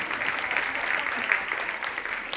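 Caregiver conference audience claps in a brief, even burst of applause, soft and somewhat distant, with a voice faintly underneath.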